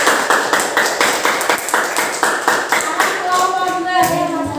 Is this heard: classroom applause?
yes